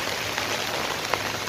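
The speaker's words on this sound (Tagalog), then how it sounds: "umuulan" Steady rain from Typhoon Ulysses pours down, a dense even hiss of drops on surfaces with no voices, constant and fairly loud throughout.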